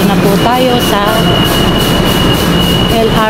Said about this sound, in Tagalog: Nandito po tayo ngayon sa LRT.